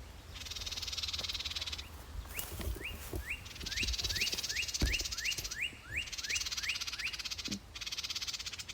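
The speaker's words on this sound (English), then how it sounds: "You hear that bird up there?" A bird in a garden repeats a quick rising chirp a dozen times in a steady rhythm, close by, over a dense buzzing background of frogs or insects.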